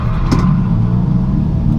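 A drift car's engine roars during a Driftcup final-round event at Driftland, a loud, steady, close mechanical drone with a brief sharp burst near the start.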